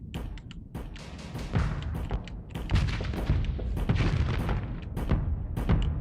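Ship guns in the space game Starsector fire at a Reaper in a rapid, irregular barrage of sharp booming shots and bursts, dense and loud throughout with no talking.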